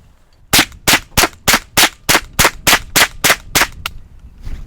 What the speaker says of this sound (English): I'm gonna be mag dumping with some Federal 36 grain hollow points